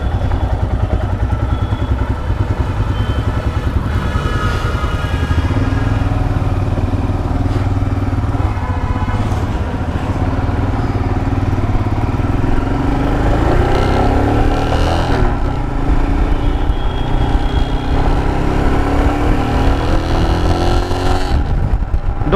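Royal Enfield Himalayan BS-IV fuel-injected motorcycle from 2017 on a test ride, its engine droning steadily with loose rattling and clatter throughout, loud and continuous with no talk.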